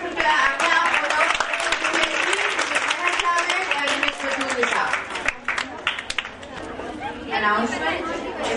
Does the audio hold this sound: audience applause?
yes